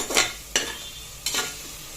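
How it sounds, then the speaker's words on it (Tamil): Coriander and mint leaves being sautéed in a pan for chicken biryani: a low background sizzle broken by three brief scraping stirs, each a soft swish of spoon against pan. "இதையும் போட்டு நல்லா வதக்கணும் கொத் கொத்தமல்லியும் புதினாவும் நல்ல ஒரு டேஸ்ட் கொடுக்கும்"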